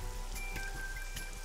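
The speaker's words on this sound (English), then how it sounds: "Right now she's standing in the pouring rain with her umbrella" Steady pouring rain in the video game AI: The Somnium Files, a soft continuous wash of drops with faint tonal music or ambience layered over it, no voices.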